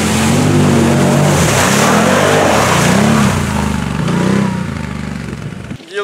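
Off-road cars and quads race through mud at a Mud Race event, their engines roaring loud and close with rising and falling revs throughout, then cutting off abruptly near the end.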